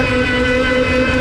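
A loud, steady engine drone with a strong low hum from a radio-controlled model jet ski racing across water, close and unbroken.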